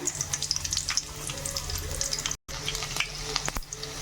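Chopped onion and tempering spices sizzle and crackle steadily in a pan of hot oil while a curry is cooked, with a brief silent break partway through and no talk.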